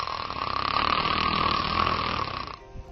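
Continuous loud rasping snore from upper airway vibration with flow limitation, a steady buzzing vibration, close and sustained for most of the clip before trailing off.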